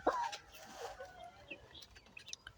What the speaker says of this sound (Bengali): এখানে তিনটা মুরগি আছে একটা রাতা আছে